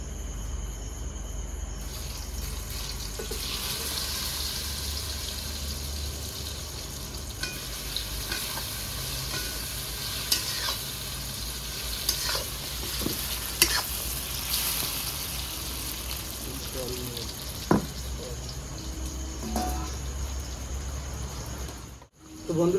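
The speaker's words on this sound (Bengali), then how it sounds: "এই তেলে আমি সয়াবিনটাও ভেজে দেবো" Soybean chunks frying in hot oil, giving a steady low crackle and sizzle with a few sharper pops, going on throughout before a brief drop near the end.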